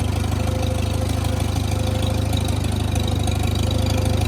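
Farmall tractor engine, an old Farmall M or C bought at auction, running steadily with a loud, close, rhythmic low chugging idle throughout, no talk over it.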